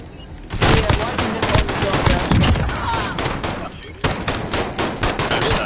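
Rapid automatic gunfire from a Search and Destroy match in an online shooter game, with dense, loud, near bursts rattling almost without a break for several seconds.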